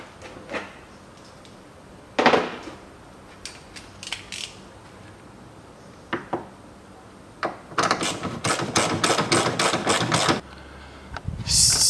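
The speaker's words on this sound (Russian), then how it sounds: "Затягиваю бак." Someone tightens the fuel tank mounting under a 2009 Ford Focus II 1.6 during a fuel pump job: scattered metallic knocks and clunks, then a quick run of sharp ratcheting clicks, close and fairly loud.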